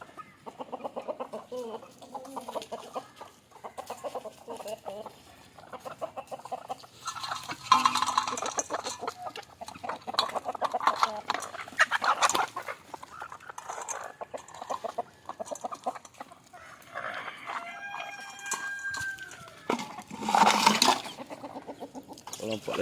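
Country hens cluck and fuss at close range while being fed old rice, with a rooster's call rising briefly near the end, while someone talks quietly in the background.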